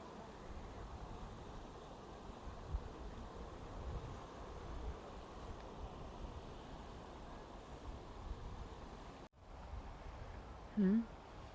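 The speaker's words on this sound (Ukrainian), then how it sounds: "Іноді можна просто помовчити і послухати шум вітру." Steady wind blows in a park near water as a low, broadband rush, with a brief dropout near the end and a short faint vocal sound.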